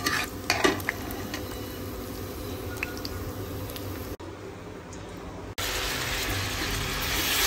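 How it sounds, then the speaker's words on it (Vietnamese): Sugar caramelizing in a pan to make a color sauce, a soft close sizzle with occasional light clicks of stirring, briefly dropping quieter before the hiss returns stronger. "thắng nước màu"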